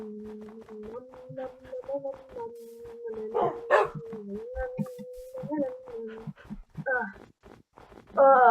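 Dog barking and whimpering in the video game PuppyCraft 2, with repeated short yips and whines over a steady game music tone, while a person talks throughout.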